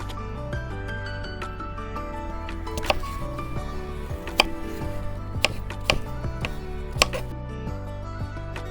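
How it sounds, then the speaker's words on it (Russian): A knife cuts apples into roughly one-centimetre cubes for an Armenian ghapama stuffed-pumpkin filling. A few sparse, sharp chops sound against the board over a steady musical background. "Их нужно порезать, очистить от сердцевины и нарезать на кубики примерно размером с сантиметр."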